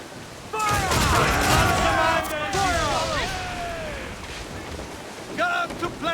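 Ship cannons firing during a naval battle in Assassin's Creed IV: Black Flag, a burst of booming shots rolling over wind and sea noise, with shouted crew voices over the blasts and more fire near the end.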